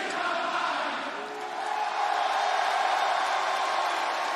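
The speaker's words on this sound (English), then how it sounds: "Man, what a crowd here tonight." A wrestling arena crowd cheers and roars in a loud, steady, dense wash of noise that swells slightly toward the end.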